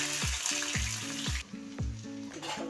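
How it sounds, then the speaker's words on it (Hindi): Chopped onion sizzling loudly in hot oil over a tempering of spices, with repeated scraping stir sounds and a sharp hiss that settles partway through. "हम इसमें अपना कटा हुआ प्याज डालेंगे।"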